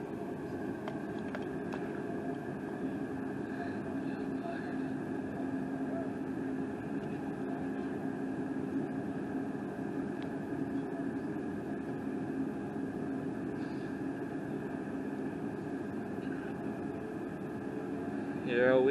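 Steady airliner cabin hum and engine drone while the plane sits on the runway in Houston before the flight to Phoenix, continuous and even throughout, with a slight swell right at the end.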